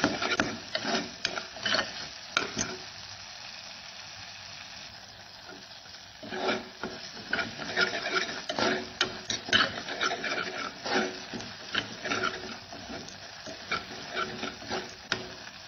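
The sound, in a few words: stirring and sautéing spices in a pan for misal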